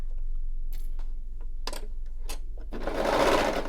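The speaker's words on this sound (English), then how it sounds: "here at the bottom I'm going to start serging again" A serger overlocks the edge of a fabric bag piece during a boho bag sewing project. Soft handling clicks come first, then the machine bursts into a loud, dense whirring run for about a second near the end.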